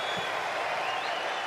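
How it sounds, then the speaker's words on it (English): Tennis crowd applause at a United Cup team event in Perth, a steady broadband clatter of clapping from a large arena audience, sustained evenly throughout with no voices standing out. "Crowd starting to get a little more involved."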